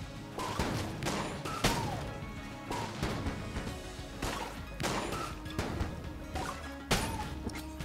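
Repeated bursts of gunfire and bullet impacts from the roguelike shooter game Enter the Gungeon, sharp cracks and thwacks arriving every second or so over a steady game backdrop, loud and close.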